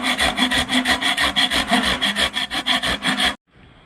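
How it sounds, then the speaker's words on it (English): A hand saw cuts through wood outdoors in about twenty fast, even back-and-forth strokes, loud and close, then stops abruptly; no one speaks. "So might help if I can start the saw."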